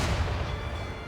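Ship cannon fire in the naval combat of Assassin's Creed Rogue: a heavy, sustained booming roar, loud and close, filling the whole moment with no voices over it.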